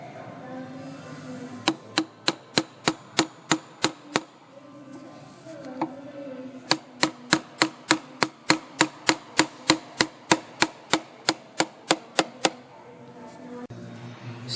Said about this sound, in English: you should be able to take a hammer